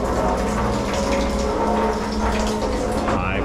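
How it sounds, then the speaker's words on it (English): Spent fluid forced out under high pressure from a can during repair work on a 2014 Cadillac SRX 3.6, a loud continuous gushing, hissing rush that stays steady throughout, close by and alone. "High pressure pouring things."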